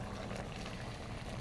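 Crushed eza is poured into a pot of protein stew, making a steady, close liquid pouring and bubbling wash that fills the short clip without talking.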